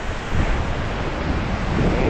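Surf breaking steadily on the beach at Pantai Kuala Matu, a continuous loud wash of waves with some wind rumble, close and unbroken for the whole stretch.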